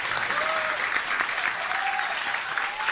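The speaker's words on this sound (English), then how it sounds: "Always get applause for that." An audience at a high school quiz bowl semifinal applauds steadily in a dense, sustained wash of clapping that fills the room, with no talk over it.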